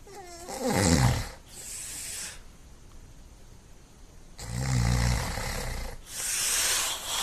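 Breathing from a played paranormal investigation recording: several heavy, snore-like breaths in slow succession, separated by quieter hissing gaps, with no talk.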